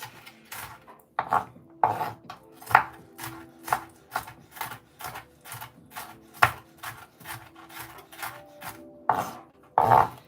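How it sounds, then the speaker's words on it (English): Yellow onion minced with a large knife in a rocking motion, producing a steady series of crisp, close knocks on a cutting board at a brisk, regular pace, with no talking. "with the bigger knives, it's easier to rock back and forth like this so that you can actually mince something"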